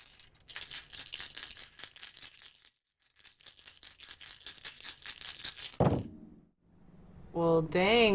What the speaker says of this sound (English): let's get a couple of tarot dice here. And as I mix these up, it's kind of loud